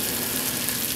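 A loud, steady sizzle of Brussels sprouts frying in oil and butter in a pan on a charcoal grill, close and continuous.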